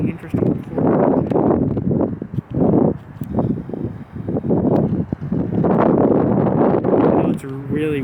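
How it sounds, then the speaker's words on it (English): Strong wind buffets the microphone in heavy, low rumbling gusts, with someone talking underneath, outdoors at the Brown vs Board of Education memorial in Topeka, Kansas. "I know it's really windy."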